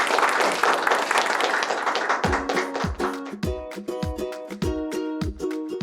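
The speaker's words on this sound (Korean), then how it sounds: "박수 부탁드리겠습니다" Audience applause at a donor award ceremony, dense clapping for about two seconds, then fading into scattered claps under loud music.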